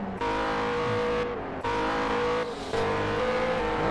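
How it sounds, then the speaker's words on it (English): Onboard a P1 race car, the engine revs hard and loud, rising through gears with brief drops at the shifts, steady and close with no talk. "3 laps to go here as we're winding it down here on board with a P1 car of CHR Chris Joe."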